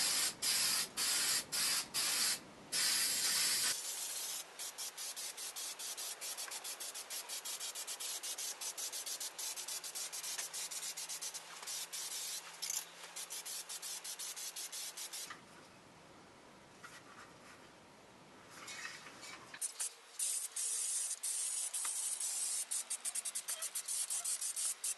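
Spray paint hisses onto a homemade wooden Christmas lamp post in long continuous bursts, close up, with short pauses and rattling between passes.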